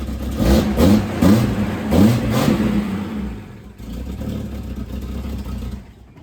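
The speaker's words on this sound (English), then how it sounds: "I'm gonna weld up that resonator or muffler, whatever it is. Try and get rid of that fluffy sound" A Ford car engine revs with a blown exhaust resonator, giving a loud, fluffy, rough exhaust note. Three strong rev bursts rise and fall, then it settles into a steady rumbling idle before cutting off.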